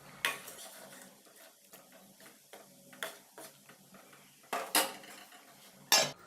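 A spoon stirring chili and turmeric powder into a karela lentil dish in a metal pot, giving irregular clinks and scrapes with a few sharper knocks against the side, close and alone.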